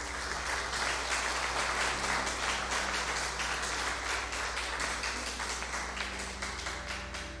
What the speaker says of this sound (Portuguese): Então aplauda ao Senhor em nome de Jesus.